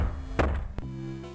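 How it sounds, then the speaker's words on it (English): A character in the game The Return of Don Quixote bangs his head against a door, making three dull, hollow thumps at uneven intervals over a steady, sustained musical drone. "How is he, like, banging his head on these doors?"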